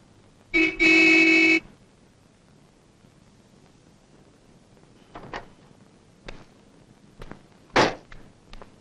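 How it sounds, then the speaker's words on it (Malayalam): A car horn gives one loud, sustained honk lasting about a second near the start, followed by quiet with a few scattered clicks and knocks. "എന്താടാ കാറ് ഹോണടിച്ചാ വന്നൂടെ നിനക്ക്?"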